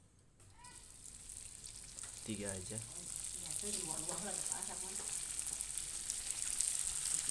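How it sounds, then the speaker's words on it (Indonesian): Hot oil sizzles steadily as banana nuggets fry in a wok, crackling and hissing and growing louder, with a voice speaking briefly over it. "setelah minyaknya panas, lalu kita masukin pisang crispy-nya ke dalam wajan"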